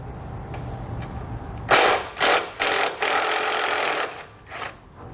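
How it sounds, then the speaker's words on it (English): A ratchet with a 10mm socket loosens a bolt while a towed-vehicle diode wiring kit is installed, with four or five quick, close ratcheting bursts separated by short pauses against a quiet background. "Then we can remove this bolt using a 10mm socket."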